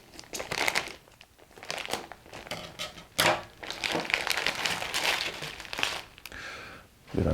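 Plastic parts bags from a Tamiya Dynahead 6x6 model kit crinkle and rustle up close in repeated bursts, loud scrunches separated by brief quieter moments.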